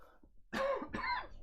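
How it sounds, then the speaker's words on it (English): Two quick throaty coughs in a row, close by, following a brief quiet stretch. "I'm gonna cough again."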